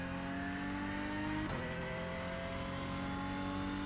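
A Porsche Cup race car in iRacing at Road Atlanta screams under steady acceleration, its engine note climbing before a quick upshift drops the pitch and it pulls hard again, loud and close.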